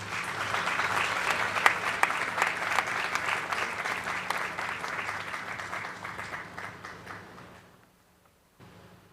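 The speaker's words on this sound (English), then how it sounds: "a round of applause for Dr. Grace Amiobing, Chairperson of the Millennium Excellence Foundation" An audience at the Millennium Excellence Awards ceremony claps in a dense, sustained round of applause that gradually thins and dies away into near silence before a faint stir returns.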